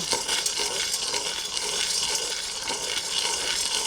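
Homegrown village corn kernels roast in a pan, a dense continuous dry rustling and sizzling hiss as they are stirred and tossed, close and steady.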